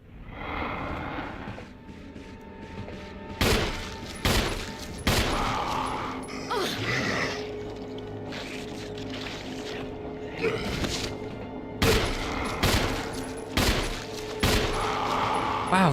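Pistol gunfire in the video game Resident Evil 1 rings out as a handful of sharp, loud shots at irregular intervals, set against a droning in-game ambience with no talking.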